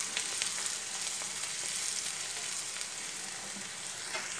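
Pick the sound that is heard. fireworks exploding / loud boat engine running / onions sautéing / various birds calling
onions sautéing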